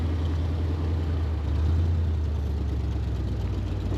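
A 1945 Willys MB jeep with a four-speed manual and a Cherry Bomb exhaust idling, a steady low rumble running continuously at moderate volume with no talk over it.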